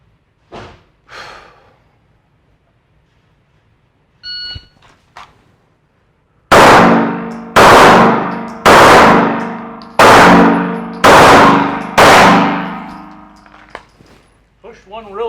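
Five evenly spaced pistol shots at 15 yards ring out loud and sharp, each ending in a bright metallic ring as it strikes a steel target, after a few quiet clicks and a short beep. Voices are faint in the gaps.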